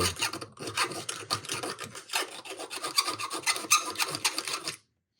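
A hand file rasps steadily over metal burrs on a part of a vintage Fostoria industrial shop light, a close, continuous scraping rhythm of quick strokes lasting about five seconds before stopping, with no talking.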